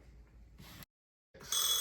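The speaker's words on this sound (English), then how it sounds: "Oh, I'm getting a phone call." A telephone rings nearby in two bursts of bell-like trilling separated by a short silence, the second burst louder.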